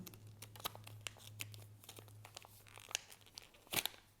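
Scissors snip off a small leftover scrap from a paper card cutout, giving faint, quiet crinkles and light crisp cuts with a sharper crunch near the end.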